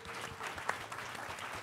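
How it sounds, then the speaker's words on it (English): A brief burst of applause from a crowd, quiet and distant, lasting under two seconds. "So give her a round of applause."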